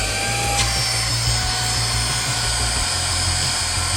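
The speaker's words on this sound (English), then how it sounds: "Bit of a demonstration of the suction power right here." A Brigii cordless 3-in-1 handheld car vacuum runs close by, a steady, loud whirring motor drone with a constant low hum underneath that does not let up.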